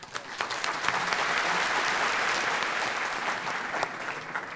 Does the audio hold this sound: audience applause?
yes